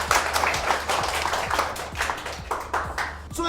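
Children clap for a drawing teacher at a school, a dense, lively burst of many hands patting in uneven rhythm, fairly close and continuous for a few seconds.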